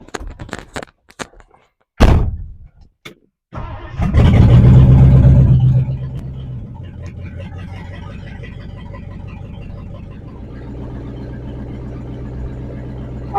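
A 1959 Edsel car: a few door thunks and clicks, then the engine starts with a loud revving surge and settles into a steady, rumbling idle.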